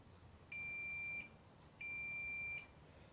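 A multimeter set to continuity mode gives two steady electronic beeps of under a second each, separated by a short gap, while it tests an engine's ignition timing on a scrap engine running stand; the tones are faint and clean over quiet background hiss.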